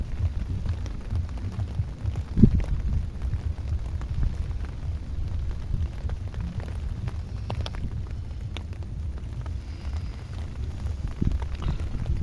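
Rain falling outdoors over a wetland beel at Gazipur during fishing, a steady broadband wash with low rumbling and a sharp crack near the start, no voices.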